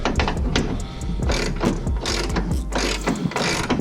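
Loud, close clicking of a ratchet wrench cranking down a radius rod bolt on a Polaris RZR 1000 side-by-side, in repeated bursts of quick pawl ticks with no talking.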